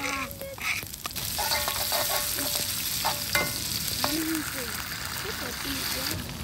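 Sardines frying in a pan at a beachside campsite, a steady close sizzle with stirring scrapes, while voices talk in the background.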